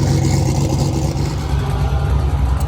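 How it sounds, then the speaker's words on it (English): A loud, rough turbo Zephyr drag car engine roars steadily at high revs at a dragway after leaving the trans brake and shifting into second, close and continuous, with a deep rumbling drone throughout. "whenever I came off the trans brake, went to the second, you can hear it just revved"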